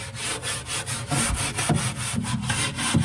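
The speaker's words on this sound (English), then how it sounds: "go through here, scrub on as much as you can." Scrubbing inside a REC TEC Bull 700 pellet grill, a brisk back-and-forth scraping of brush on metal in rapid repeated strokes, close and steady with no talk.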